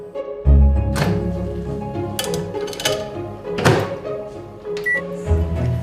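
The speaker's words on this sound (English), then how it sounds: "Pop them in the microwave and after just a few minutes, the holder can be removed." A microwave oven holding a crisp maker with potato slices gives several hard clunks and knocks, a brief beep, and a low hum between them. There is no talking.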